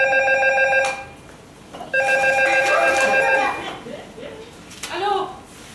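Landline telephone bell rings twice in bursts, clear and close, with people chuckling and talking between and after the rings.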